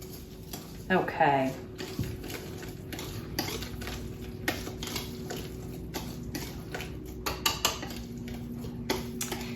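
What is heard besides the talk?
whisking waffle batter in a bowl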